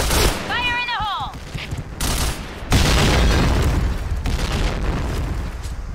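Grenade explosion and gunfire in the Point Blank shooter game, with loud booming blasts and rapid shots filling the clip, plus brief rising electronic tones near the start.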